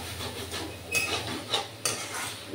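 Young jackfruit stirred and sautéed with spices in very little oil in a pan, a soft steady scraping and rustle with a light sizzle and a few sharper utensil scrapes against the pan.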